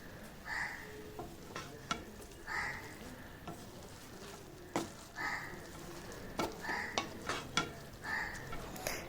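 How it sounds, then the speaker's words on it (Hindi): Grated carrots stirred with milk in a pan over a medium flame, a spoon scraping in repeated rhythmic strokes against a soft simmering sizzle, close and moderately loud with no voices. "दूध ऐड करने के बाद हमें इसे अच्छी तरह से चलाना है"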